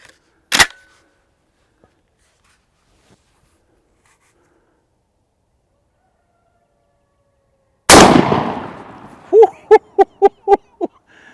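12 gauge shotgun firing Federal TSS turkey loads through a MOJO Outdoors turkey choke: a sharp blast near the start, then after a long silence a second loud close shot with a ringing tail and a quick series of echoing clicks.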